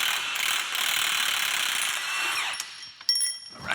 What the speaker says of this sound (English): We'll get this axle nut out of the way.